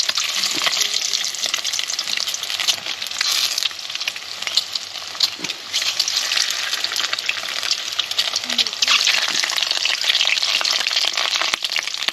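Eggs frying in fully heated oil for an egg masala curry, a loud, continuous crackling sizzle with stirring scrapes throughout.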